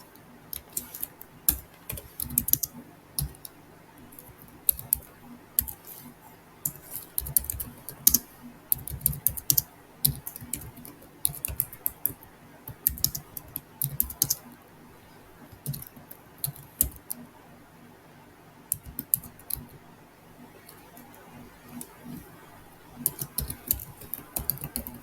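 Computer keyboard typing in quick irregular bursts of clicky keystrokes with short pauses, entering a SQL query, fairly close and alone without talk.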